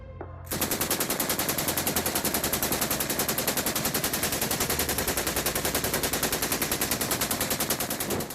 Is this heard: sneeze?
no